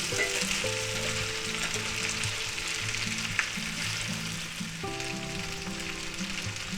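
Potatoes, onions and sausage fry in oil in a pan, giving a steady, full sizzle throughout with a tonal background hum and one faint clink, and no talking.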